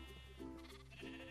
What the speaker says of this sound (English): It's a baby sheep!